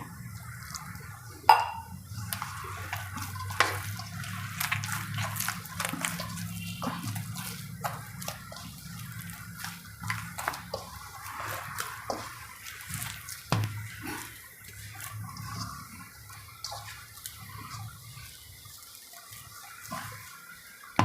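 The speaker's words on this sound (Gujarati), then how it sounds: "પાણી નાખતું જવાનું અને મસળતું જવાનું" Irregular wet squelching and soft slaps as water is worked into wheat flour dough by hand for sev, close and quiet, with occasional clicks.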